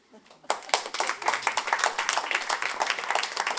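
Applause breaks out from the audience at a comedy show after a quiet moment, a burst of scattered hand clapping that continues steadily to the end.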